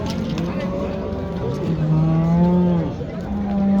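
A cow at a livestock bazaar in Samarqand lets out a long, drawn-out low moo with a rising and falling pitch, close by, over a busy background of crowd murmur and market noise.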